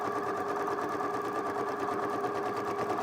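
A sewing machine runs steadily, backstitching at the end of a seam, a continuous close mechanical whir with a fast rhythmic needle pulse and no pauses.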